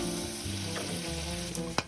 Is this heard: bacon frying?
yes